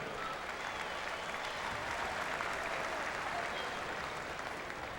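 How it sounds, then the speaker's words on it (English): An audience at a state championship sports event keeps up steady, dense applause for the full stretch, a wide wash of clapping hands with no break. "Folks, let's give a big round of applause for them all again."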